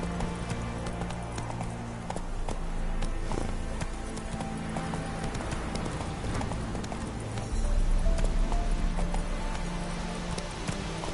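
Hooves of the horse Roach in a video game, a fast rhythmic clip-clop of galloping that carries on throughout and grows heavier near the end, with a faint game hum underneath.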